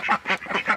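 Homestead ducks quack close by in a rapid run of about four harsh, nasal calls in under a second, loud and unbroken by talk.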